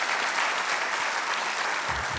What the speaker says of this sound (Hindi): एक बार तालियों से उनका और स्वागत कर लिया जाए